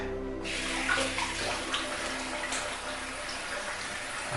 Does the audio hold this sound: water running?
yes